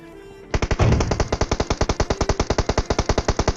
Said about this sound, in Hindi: उनका कुछ फायर आया था जो कि मेरे को सुनाई देता है